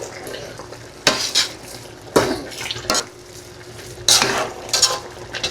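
A spoon scrapes and clatters around a pot of chicken liver and gizzard adobo in several sharp strokes, with a soft simmering bubble underneath, close by.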